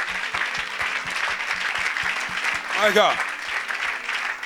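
A crowd applauds continuously at a church healing event, dense steady clapping with a rhythmic low thump underneath, while a voice exclaims briefly over it near the middle.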